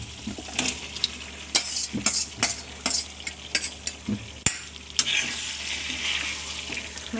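Marinated chicken stirred and frying in oil in a pan for chicken curry, with repeated scraping strokes, sizzling and occasional clinks of utensil against the pan, close and moderately loud.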